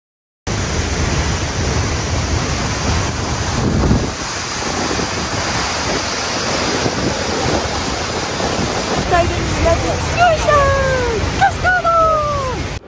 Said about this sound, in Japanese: 山の中に現れた滝はマイナスイオンたっぷりで、想像よりかなり迫力がありました。